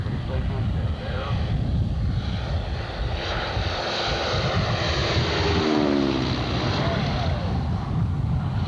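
Aircraft making a slow, low pass: a sustained droning engine roar that swells and shifts in pitch as it goes by, loud and steady throughout, with people talking faintly underneath.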